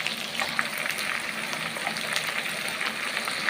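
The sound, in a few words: ginger garlic paste sizzling with fried onions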